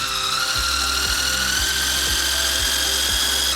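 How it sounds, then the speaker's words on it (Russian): An electric mixer whips egg whites with a pinch of salt for a cherry cheesecake, a steady close motorized whir with regular rhythmic knocks of the beaters against the bowl, no talking. "А в белки добавляем щепотку соли и начинаем взбивать миксером."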